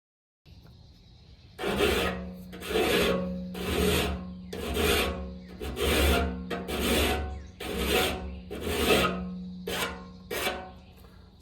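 A hand file sharpens the teeth of a sawmill blade on an old Frick mill, making about ten even, rasping strokes in a steady rhythm, close and clear, with a faint hum underneath.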